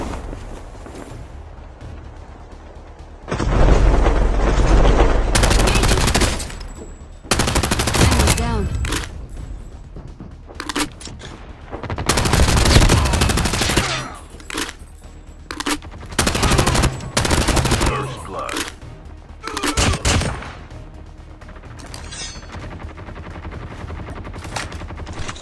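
Lapa submachine gun fire in Call of Duty ground-loot gameplay: loud rapid automatic bursts of varying length separated by short pauses, with a quieter background hum between bursts.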